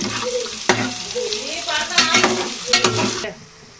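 Onions, green chillies and curry leaves frying in a pan for a village-style egg curry, a loud close sizzle with bursts of crackling and scraping of a spoon against the pan, no voices.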